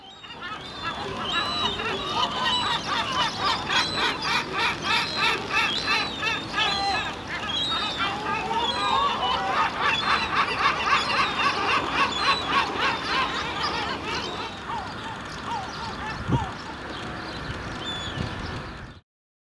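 Adult gulls calling loudly in a dense, continuous chorus of harsh honking and yelping cries, overlapping and repeating for the whole stretch, close and prominent, with a brief thump near the end.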